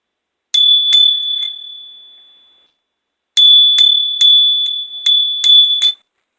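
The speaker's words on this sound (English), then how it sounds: "I always hit the bell" A small bell struck to clear energies, rung once and left to ring out slowly, then struck again in a quick run of five or six bright, clear strikes before stopping abruptly.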